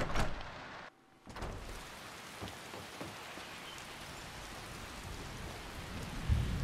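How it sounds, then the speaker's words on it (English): Rain pours steadily in the video game Skyrim, a constant broadband hiss with a low thunder rumble near the start and end and a brief dropout early on. "Okay, Marcus, I guess we're going to travel in the rain"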